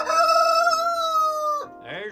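A rooster in a chicken coop on a cold morning lets out a single loud, drawn-out crow close by, followed by a short lower cluck from the flock.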